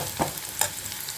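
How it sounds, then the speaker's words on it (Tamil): Dried red chillies and onions sautéing in a hot pan for a spicy chicken fry, a short burst of sizzling with a couple of quick stirring scrapes, close and clear with no talking. "இந்த வரமிளகாயை சேர்த்து நல்லா வதக்கி வச்சுக்கலாம்."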